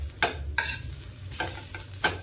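Green chilies dry-roasting on a hot tawa, heard as four short bursts of crackling and scraping set apart by quieter gaps over a low steady hum.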